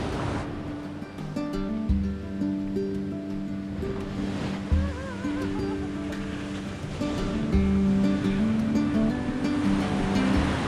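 Surf washes steadily onto Dahican Beach in Davao Oriental on a windless morning, a continuous broad wash of waves partly covered by louder background music with sustained tones.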